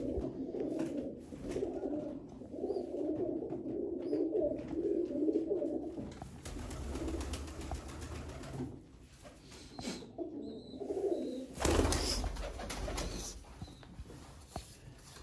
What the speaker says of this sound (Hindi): फिर एक लाल अख का कबूतर है।